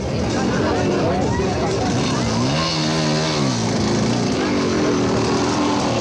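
Quad bikes racing toward the finish at the 2001 Mafikeng 500 off-road race, engines droning continuously and loudly with rising and falling pitch as they pass, under a background of crowd babble.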